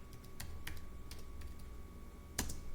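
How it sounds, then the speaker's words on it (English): Computer keys are tapped in a few sparse, quiet clicks, with one sharper keystroke near the end, over a faint steady hum; close and alone. "type it in."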